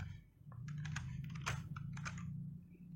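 Typing on a computer keyboard while entering values in Danfoss MCT-10 drive software: quick, close, crisp key clicks in an uneven run over a faint low electrical hum.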